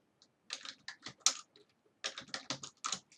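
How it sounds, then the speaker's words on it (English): Data entry on a computer keyboard for a statistics spreadsheet, in quick irregular bursts of crisp key clicks with short pauses between groups, close and clear in a quiet room, with no voices. "So what we're going to do is try typing this."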